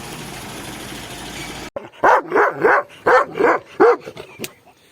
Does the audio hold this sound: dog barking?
yes